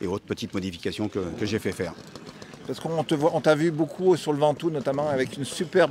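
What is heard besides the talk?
No everyday noises stand out.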